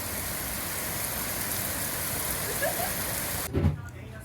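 Steady, loud rain pours down as a dense, even hiss in rainy Japanese weather, then cuts off abruptly near the end, leaving a brief low thump.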